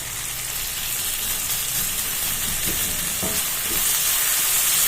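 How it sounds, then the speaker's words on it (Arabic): Garlic and tomato pieces fry in a pan and are stirred, a steady close sizzle running throughout with a few soft scrapes of the spoon. "اقلب بس كده"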